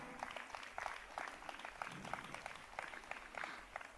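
An audience claps at a cultural stage performance honouring the divine mother, a faint but steady patter of many hands from across the hall, without a break.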